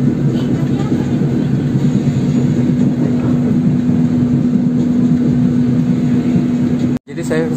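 A Minangkabau Express airport rail service in Padang, West Sumatra, heard from inside the carriage: a loud, steady rumble with a constant mechanical hum runs throughout and cuts out briefly near the end.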